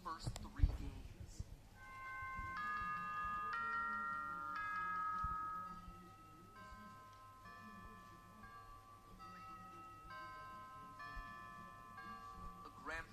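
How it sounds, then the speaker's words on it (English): A grandfather clock chimes its fixed melody at the end of each night in the video game, a sequence of clear bell-like notes struck one after another over a steady low hum, with a sharp tap at the start. "A grandfather clock, chiming the same song every time."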